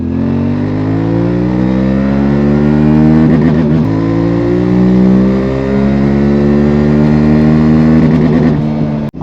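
A QJMotor SRT trail motorcycle (600 or 700 SX) accelerating hard through its short gearing, with a loud, close engine note climbing steadily in pitch and brief dips at the gear changes.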